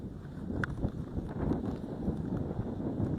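Wind buffets the microphone outdoors at a fish-farm tank in winter, a continuous rough low rumble with gusty surges and no voices.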